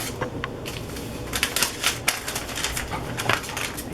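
Scissors snip through paper, trimming the folded edge of a glue book page, producing a quick series of close, crisp cuts and rustles.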